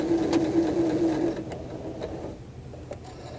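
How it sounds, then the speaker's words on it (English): A sewing machine runs steadily while back stitching an outside curve seam, then slows and stops, leaving a few faint clicks and handling sounds. "So as I come around, I am going to back stitch."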